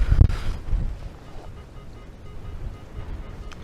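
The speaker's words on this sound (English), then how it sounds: "I can hear this wind" Wind buffeting a microphone outdoors in a field during metal detecting, a strong low rumbling gust at the start easing into steady blustery noise, close and continuous with no talking.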